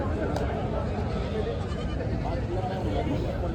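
Osmanabadi goats bleat repeatedly at a busy livestock market, their calls mixed into constant crowd chatter and nearby voices.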